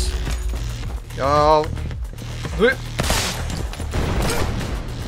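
Rapid bursts of SMG fire in a slow-motion shooter video game, crackling under a talking player's voice, with brief sharp volleys spread across the clip.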